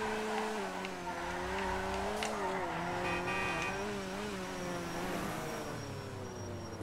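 Rune Cheburek car in GTA 5 driving with a steady, wavering engine drone rising and falling in pitch, plus some faint tire noise, continuous and fairly quiet throughout.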